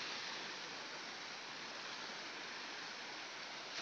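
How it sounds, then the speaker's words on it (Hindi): Steady, dense rush of water from a rocky mountain stream near a temple during rain, loud and continuous with no voices, a constant broadband roar that neither rises nor falls. "पानी का शोर शराबा तो आप सुन ही रहे होंगे"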